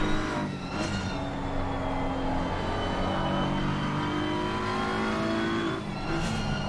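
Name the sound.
race car engine in sim racing video game at Zandvoort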